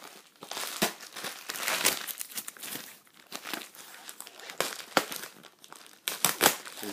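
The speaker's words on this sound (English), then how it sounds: "We're just gonna tear this open here all the way." A bubble wrap package being torn open by hand, giving a long run of loud, close crinkling and tearing bursts with brief pauses, ending in a final flurry of crackles.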